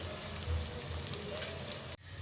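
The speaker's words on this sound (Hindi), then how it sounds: "सारी प्याज जो है ऑयल में चली गई है। अभी जो है मैं इसको करती हूँ यहाँ पे लाइट ब्राउन" Chopped onions frying in hot oil for a beef balti gosht, a steady dense sizzle holding close and even throughout, cutting off abruptly near the end.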